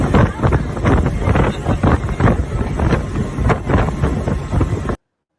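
Wind gusts across an outdoor microphone in a steady, loud rumble with buffeting bursts throughout, cutting off abruptly near the end.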